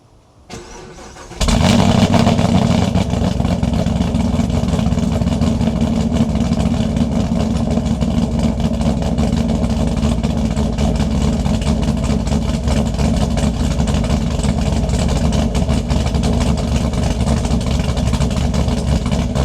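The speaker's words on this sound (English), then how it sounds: "I'm gonna go ahead and do a cold startup" A Chevrolet Camaro with under 34,000 miles fires up from cold after a brief quiet moment, then settles into a loud, steady idle that runs on continuously and close by.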